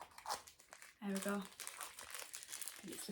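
A little bag holding 12-sided dice crinkles and rustles close up in a short burst of plastic handling, with soft talking and quieter rustles around it.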